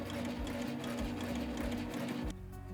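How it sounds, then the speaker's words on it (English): Steady close hum and rapid rhythmic chatter of a sewing machine running through fabric, continuous for a couple of seconds before the motor cuts out, leaving faint room tone. "and continue sewing"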